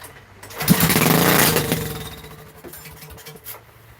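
A small lawn-mower-type engine with the choke on sputters and catches loudly for a couple of seconds after a pull, then drops back to a rough low idle with scattered knocks and faint background noise.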